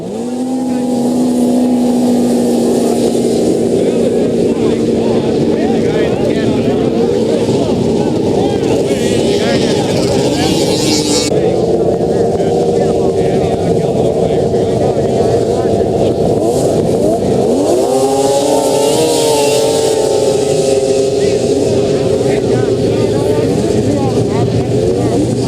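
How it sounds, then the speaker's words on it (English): Snowmobile engines at a Sunday drag race on a frozen lake revving and droning loudly and steadily, pitch rising as the machines accelerate, with a constant wash of engine noise throughout. "Waz's held snowmobile drag racing every Sunday"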